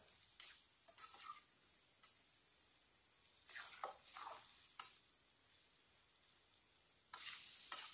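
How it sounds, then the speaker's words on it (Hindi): Spices cooking in a pan over a low flame give a faint, steady sizzle with soft intermittent ticks and scraping stirs, quiet throughout with no voices. "सब मसालों को 1 मिनट के लिए पका लेंगे। चूल्हे की आंच को मैंने कम रखा है।"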